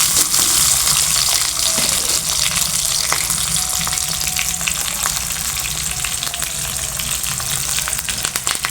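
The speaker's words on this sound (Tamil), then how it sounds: "ஒரு ஏழு சின்ன வெங்காயம் சேர்த்துக்கலாம் இதுவுமே நல்லா வதங்கலாம்" Small shallots sizzle steadily in hot oil in a pan for poduthalai kuzhambu, a continuous loud frying hiss with occasional crackles and stirring scrapes, no voices.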